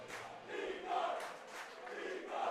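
A hockey rink crowd cheering and chanting in swelling waves, distant and fairly faint, with rising and falling group shouts across the arena.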